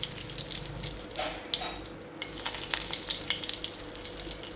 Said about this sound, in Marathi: तेल तापलं आहे त्यामध्ये मी आता कढीपत्ता घालते